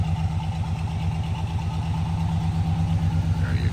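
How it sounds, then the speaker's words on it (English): A 1970 Chevrolet Chevelle with a 350 crate motor and headers idles close by, a loud, rhythmic, lopey burble pulsing evenly for several seconds with no talking. "Guys, listen to this thing, how it sounds really quick before I shut it off."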